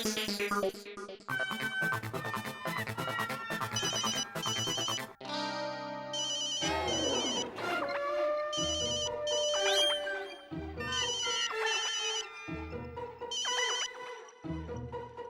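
A phone ringtone plays as a repeating electronic melody, bursts of bright tones separated by brief gaps, loud and close, with no one talking.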